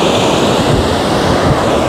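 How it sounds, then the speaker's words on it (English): Strong ocean surf breaks and washes continuously at Long Branch Beach, New Jersey, a loud, close, steady roar of churning water mixed with wind buffeting the microphone, with no voices. "Those waves are pretty strong when I'm walking through the beach"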